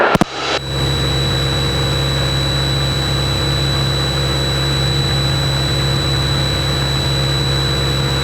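A Cessna's piston engine drones steadily in flight on a solo cross-country trip, heard from inside the cockpit. The loud, continuous roar carries a constant tonal hum and no talk.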